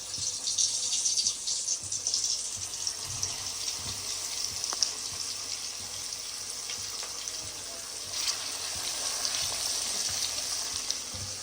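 Fish coated in masala frying in hot ghee, a steady bright sizzle with watery crackle running continuously at moderate loudness, with no talk over it.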